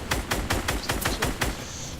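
Rapid gunfire in a competitive video game tournament match, about eight evenly spaced loud shots in quick succession, close and punchy, with no talking.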